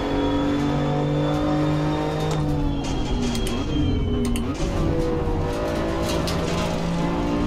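A BMW M2 CS accelerating in the racing game Assetto Corsa Competizione, its engine holding a loud, steady drone that rises in pitch as revs climb, with a brief dip mid-way as if shifting gear.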